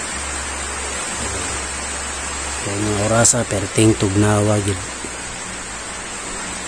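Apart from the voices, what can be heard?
heavy rain falling on a farm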